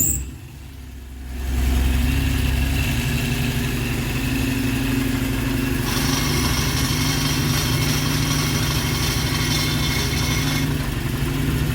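A Honda K24-engined car fitted with a swapped six-speed gearbox starts and runs, going from a brief low rumble to a steady idle drone, close and loud, with no talk.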